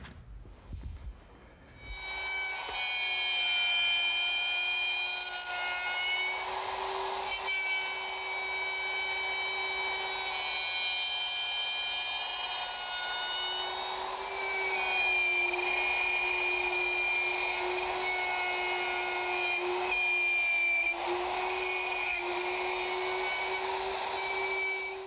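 A power tool cuts half-blind dovetails in wood for a Shaker washstand, a steady high whining drone that starts after a brief clatter and runs loud and close for over twenty seconds with slight pitch dips.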